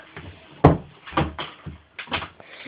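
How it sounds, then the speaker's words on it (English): An indoor door opening and bumping, producing several clattering knocks and a sharp thud, followed by further scraping and knocking as it swings, all fairly close and loud with no voices. "Angel, stop opening the door."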